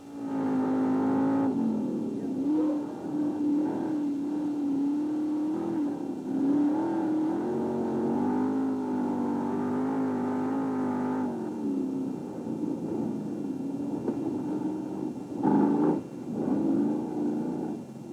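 A sprint car engine at Knoxville Raceway during the 1995 Knoxville Nationals, captured from inside the car: a loud, sustained droning roar that rises and falls with throttle, with no voices.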